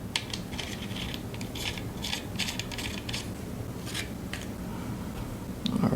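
A fine-thread rivet nut is threaded onto a BEETOW 8-inch rivet nut tool. Close, dry metallic clicking and ratcheting scrapes repeat in short bursts over a low steady hum.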